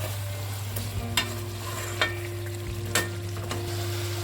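Chicken for biryani cooking in a pot over a low flame, a quiet steady sizzle with a low hum under it and a few soft knocks of stirring, heard up close with no talk.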